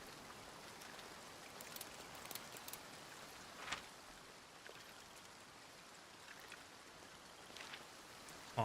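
Steady rain falls in the Devils Trail video game, a soft continuous hiss of drops on surfaces with a few faint ticks, quiet and even throughout with no talk.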